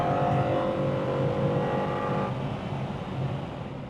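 A classic race car on a flying lap at the Estoril circuit roars loudly past, a strong continuous engine drone that changes pitch partway through and then carries on at a slightly lower level.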